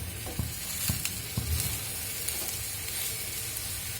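A bell pepper ring sizzles in an oiled frying pan, a steady moderate hiss with a few faint clicks and taps from the pan near the start.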